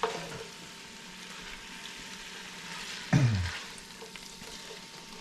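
Big seasoned shrimp and karela sizzle steadily in a hot pan, a constant frying hiss with one brief louder spatter and stir midway.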